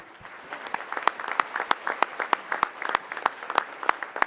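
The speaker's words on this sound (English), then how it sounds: "So that's a round of applause for him." An audience at a school board meeting gives a round of applause for a state long jump qualifier, a steady burst of many hands clapping nearby that continues for the whole stretch.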